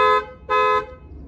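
Alarm on a 1999 Dodge Ram pickup set off by its panic button, giving two loud, close horn-like honks in a steady on-off rhythm with a short gap between them, and no talk.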